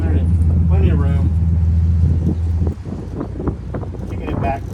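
Both engines of the Ocean Pearl drive the boat forward, a steady low rumble under close talk and wind buffeting that drops to a quieter idle partway through.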